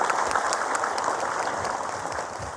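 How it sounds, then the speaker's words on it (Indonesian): A studio audience applauds a woman named Ibu Sari on an Islamic talk show, a dense, steady wash of many hands clapping together that holds at an even level throughout. "Tepuk tangan deh buat Ibu Sari nih"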